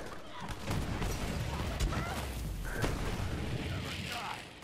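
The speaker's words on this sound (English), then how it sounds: "that's just something entertaining about radiation explosions for me" Radiation explosions from a gamma burst in the Borderlands 3 video game, a dense run of booming blasts and sharp cracks layered over a continuous low rumble, loud and sustained throughout.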